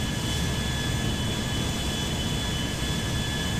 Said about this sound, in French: Et là c'est mon coup de cœur, le fameux Concorde. Concorde de chez Air France.